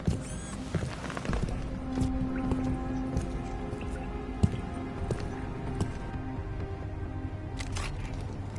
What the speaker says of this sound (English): Enough rain to drown a duck.